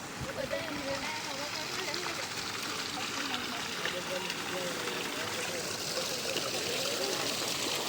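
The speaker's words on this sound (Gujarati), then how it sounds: "અંદરથી પાણી નીકળે છે" A small stream of water flowing near a Hare Krishna temple in London, a continuous close trickle and rush that stays steady throughout while people talk over it.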